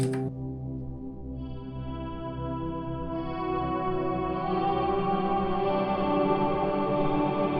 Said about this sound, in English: So our reverb's on.